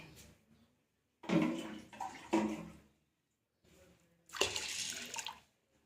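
Water poured over washed urad dal in a bowl to soak it, delivered in separate splashing bursts with short silent gaps between them, close by and fairly loud.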